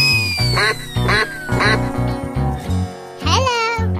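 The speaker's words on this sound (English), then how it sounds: "Duck." Cartoon duck quacking, a string of loud, nasal quacks in short rhythmic bursts close to the listener, with a gliding whistle-like tone early on and a longer warbling quack near the end.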